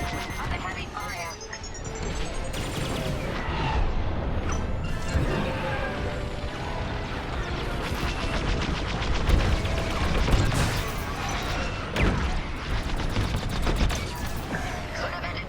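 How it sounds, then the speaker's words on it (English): Heavy blaster fire in a Star Wars Squadrons space dogfight, a dense, continuous barrage of rapid laser shots and crashes with engine whine, while voices talk over the battle. "I'm in a real bind here. Under heavy fire."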